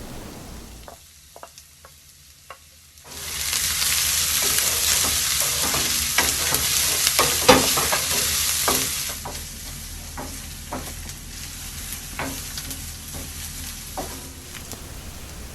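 Minced garlic hits hot oil in a pan and sizzles loudly, a bright steady crackle broken by sharp scraping and clinking as a utensil stirs it; a few soft taps come first in near silence.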